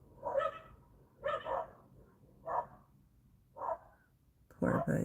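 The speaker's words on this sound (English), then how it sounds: "If you come down this street, those dogs are going to bark and let everybody know somebody's on their street." Neighborhood dogs bark along a residential street, five separate barks spaced about a second apart, moderately distant, the last one louder and closer, with faint talk underneath.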